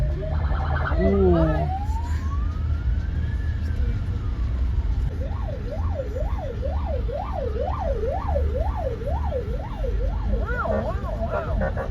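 An official's car speeds past with a wailing siren, first a long rising and falling sweep, then rapid yelping cycles, loud and close over road noise, with a brief spoken exclamation.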